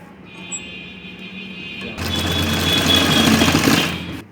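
A sewing machine stitches elastic onto baby shorts, starting after a low background hum and running as a loud, fast, steady whir close by for the last couple of seconds.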